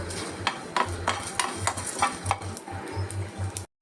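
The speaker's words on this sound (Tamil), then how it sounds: "இங்கே அதுக்கு தேவையான ஸ்பைசஸ்ஸு இதெல்லாம் நம்ம ட்ரை ரோஸ்ட் பண்ண போகிறோம்." Spices rattle and scrape in a dry pan, with a spoon stirring in irregular strokes and metal clinks, close and fairly quiet.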